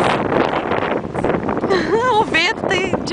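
Strong seaside wind buffets the microphone in a steady roar, with people talking loudly over it in the second half.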